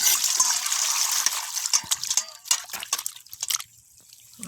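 Raw papaya is washed in water, with splashing, dripping and gushing sounds up close that thin into scattered drips and small knocks toward the end, with no talk.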